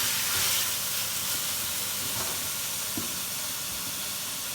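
Ground beef sizzles in a dry pan with no added oil, cooking in its own fat and juices for kibbeh in beet soup; a steady, close broadband hiss runs throughout with a few faint clinks, and no one speaks.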